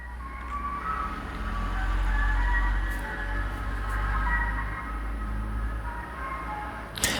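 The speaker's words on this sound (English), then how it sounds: "that was a truck outside and you could hear it" A truck rumbles past outside as a steady low engine drone, moderately loud and muffled through the walls, continuing throughout with no talk.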